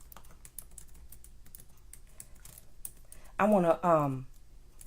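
Rapid keyboard typing while a comment is written, light scattered clicks and taps close to the microphone, interrupted near the end by a brief spoken phrase.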